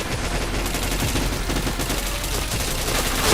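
Rapid video game gunfire from a shooter session, a dense, continuous volley of shots at close, steady loudness for the whole stretch with no talking.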